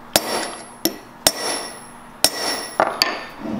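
Sharp metallic hammer blows bend the ear of a Japanese hand plane blade over an anvil, about seven irregularly spaced ringing strikes, close and loud, with no talking.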